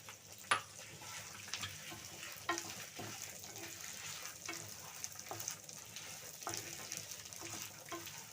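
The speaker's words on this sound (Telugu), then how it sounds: "కొద్దిగా మిర్చి వేగిన తర్వాత ఇప్పుడు మనం పొట్టు మినపప్పు పోసుకుందాం" Urad dal with skins and chillies fry quietly in a pan, a faint steady sizzle broken by soft scraping stirs and small clicks of a utensil.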